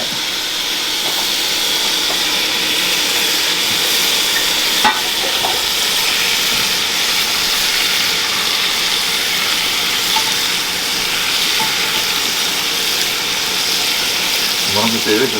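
Skin-down chicken sizzles on a hot griddle pan with a sauce caramelising, a loud, steady frying hiss running throughout with a few faint clicks and taps.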